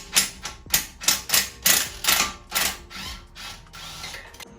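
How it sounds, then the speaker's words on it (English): A hand ratchet loosening the screw that holds the strut on a BMW E90, a rapid series of sharp mechanical clicks in rhythmic pulses, close and clear with no talking. "you got to remove this screw right here that holds the strut in"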